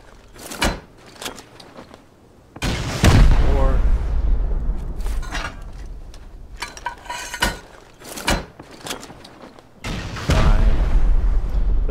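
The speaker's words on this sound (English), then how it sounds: "Now let's hit rockets on here. Should be 6 rockets total." Rockets from the game Rust striking a base, several heavy booming blasts with long rumbling decay, separated by short gaps and sharp transient clicks.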